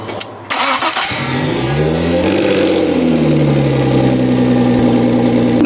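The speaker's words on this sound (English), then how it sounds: "You don't have your exhaust on there? Start her up" A big-turbo Audi with its exhaust removed cranks and fires up, then revs loudly, the engine note rising and falling before it settles into a raw, rough idle, close and very loud.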